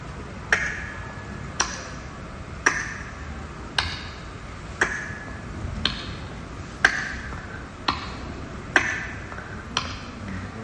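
A mimic's voice imitates a clock's second hand ticking at a school arts festival mimicry contest, giving about ten sharp, evenly spaced clicks roughly one second apart, clear and alone over faint room noise.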